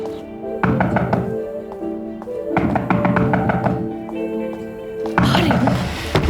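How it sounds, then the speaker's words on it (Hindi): Knocking on a home's door comes in three loud, close bursts of quick raps with pauses between them. "दरवाजा बज रहा है, मैं जाकर देखती हूँ।"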